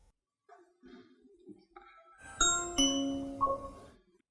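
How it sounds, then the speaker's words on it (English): A faint electronic tune plays first, then a Ring smart doorbell chime sounds with three bright ringing tones that overlap and decay, heard up close. "Someone is at the Ring doorbell."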